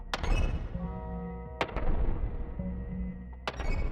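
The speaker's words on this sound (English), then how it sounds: "Not very peaceful if I'm tossing grenades everywhere" Grenades go off in a bomb-dropping incremental video game: three sharp, punchy blasts spaced about 1.5 to 2 seconds apart over a soft, tonal game soundtrack, with no voices.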